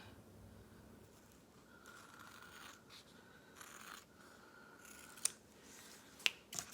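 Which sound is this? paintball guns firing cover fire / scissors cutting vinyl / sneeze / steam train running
scissors cutting vinyl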